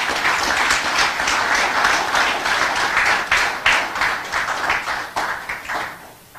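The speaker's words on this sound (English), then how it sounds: "Let's give them a round of applause" Audience applause at a territorial government address, a dense, steady clapping that fills the whole stretch and thins slightly toward the end, with no talk over it.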